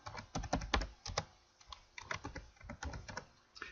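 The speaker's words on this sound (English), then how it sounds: "So let's go ahead and just type that out." Typing on a computer keyboard: a close, quick run of distinct key clicks with short pauses between bursts, fairly quiet and with no voice over it.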